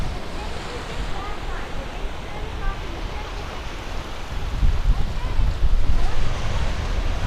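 Ocean surf and wind wash steadily along an Atlantic beach as the tide goes out, a continuous broad roar with gusty low rumble that swells louder toward the end.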